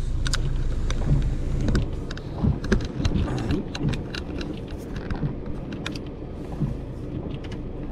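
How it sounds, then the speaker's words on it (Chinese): Light rain heard from inside a car driving through a park in Vancouver, with steady road rumble and scattered patters of drops on the body and windshield, no one talking. "外面下着小雨，让你们感受到这雨的存在啊。"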